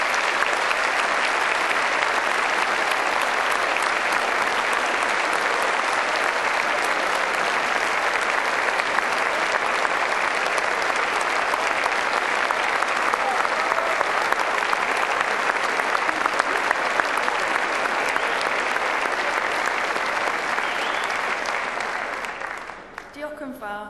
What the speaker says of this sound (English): giving them a warm and enthusiastic round of applause.